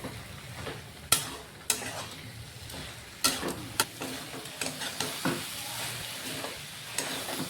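Soybean chunks and potato sizzling as they fry in oil with spices in a pan, with repeated sharp scrapes and clinks of a spoon stirring, steady hiss underneath, no talking.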